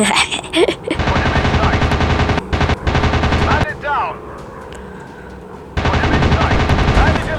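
A warplane's machine guns firing in a World War II air-combat game over Britain and Germany: loud, rapid sustained bursts that pause for a stretch in the middle, then resume.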